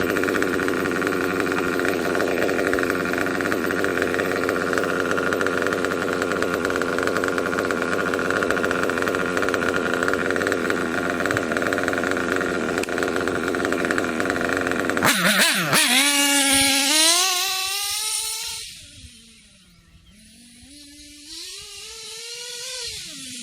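A nitro engine runs steadily at a high buzzing whine during tuning, loud and continuous, then its pitch wavers and drops as the throttle changes before picking back up.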